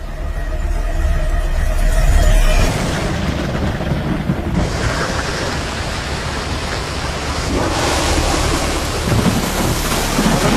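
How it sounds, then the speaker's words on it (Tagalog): Heavy rain pours down steadily with a low rumble of thunder, a dense wash of noise that shifts in intensity but never lets up. "Heavy rains continue across the region tonight."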